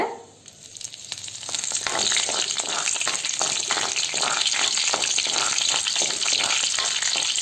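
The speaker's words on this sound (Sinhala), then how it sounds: "ඒකටම කරපිංචා කොළ දෙක තුනක් දාගන්න." Curry leaves with cinnamon and other spices hit hot oil, and a quiet start swells within a second or two into a loud, steady crackling sizzle that carries on alone to the end.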